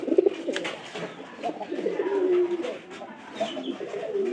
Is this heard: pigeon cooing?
yes